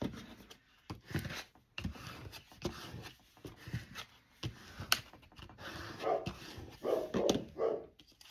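Dog barks repeatedly in short bursts at moderate distance, with wind noise and some rustling in the background.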